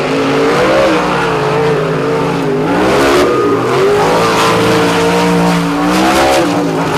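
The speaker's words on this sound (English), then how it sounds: "A pair of Patrick chassis and a pair of very, very tightly wound, fast monster trucks." Two fast monster trucks on Patrick chassis race side by side on a beach track, engines roaring loud and close with constant revving and shifting pitch, tires scrabbling through the sand in a dense, continuous wall of sound.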